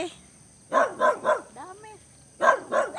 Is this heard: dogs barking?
yes